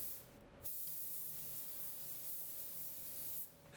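A spray gun lays a wet coat of waterborne metallic grey paint on a car panel: one sustained airy hiss lasting about three seconds, framed by fainter spray at the start and end.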